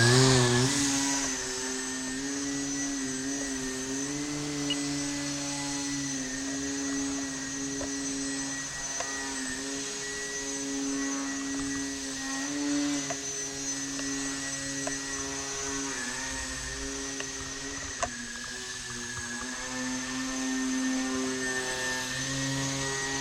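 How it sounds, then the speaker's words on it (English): A small indoor RC 3D foam plane with a bent propeller flies nonstop, its motor whining in a loud, steady buzzy drone with shifting pitch as it maneuvers around the room. "Again, this plane usually isn't so loud. The prop is a little bent from my horrible flying."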